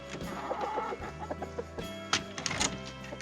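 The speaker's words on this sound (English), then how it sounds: "Our new little rooster we got is doing really good." A young rooster clucks and crows nearby, a string of short clucks and chortles with a louder crowing note, set against a steady background hum.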